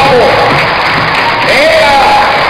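Theatre audience applauding a comedian on stage, dense steady clapping and crowd noise throughout, with a few whoops and voices rising over it.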